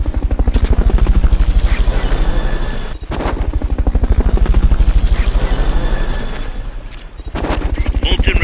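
Helicopter in the Metal Gear Solid Peace Walker video game, a loud, fast, steady rotor chop filling the whole stretch, dipping briefly twice as it passes, without speech.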